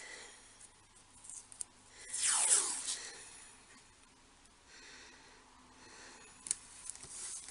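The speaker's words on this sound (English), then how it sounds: "I'm just going to use a little bit of washi and tape this down" Washi tape peels off the roll in one close, hissing rip of about a second as it is laid over a stencil. Faint soft handling rustles and small taps follow in a quiet room.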